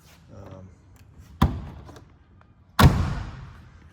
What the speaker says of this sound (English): The doors fit and shut nicely.